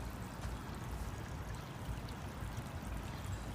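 Water from a backyard waterfall trickles steadily into a 750-gallon goldfish pond, a continuous soft, even wash of flowing water heard alone and fairly quiet throughout.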